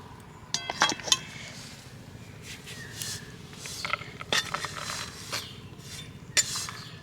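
Utensils clink sharply against a plate and pan as roasted flour and semolina are transferred, several scattered bright metallic taps and scrapes over a quiet kitchen background.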